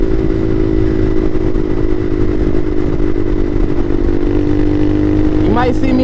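A Bashan Motomax 250 supermoto motorcycle with a Nibbi PE30mm carburettor drones steadily while riding, loud and constant with wind buffeting, and a brief rising rev near the end.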